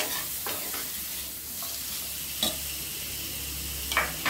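Onions, carrots and beans sizzle steadily in a pan for egg Maggi, with repeated scraping stirs of a spatula breaking through the continuous frying hiss.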